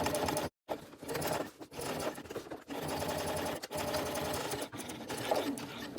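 A sewing machine stitches a bag seam in steady continuous runs, with brief pauses and back-stitching stops between bursts, close and alone.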